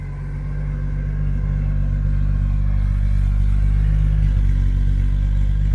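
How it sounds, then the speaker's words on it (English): A finished custom cruiser car with a freshly tuned carburetor idles smoothly and steadily, its exhaust giving a quiet, low, continuous rumble heard close by without talk. "just nice little low tone, not loud, but you can hear it running"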